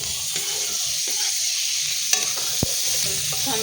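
Tomato with asafoetida and turmeric sautéing in a pan, a steady close sizzle with scattered stirring scrapes and a couple of sharp spoon knocks against the pan.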